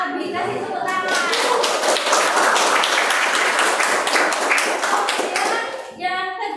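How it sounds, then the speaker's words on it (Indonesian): A classroom of students claps for a group after its presentation, a dense burst of hand claps lasting several seconds and close to the recorder, with children's voices mixed in before it fades. "Oke, terima kasih kelompoknya Abi. Kasih tepuk tangan."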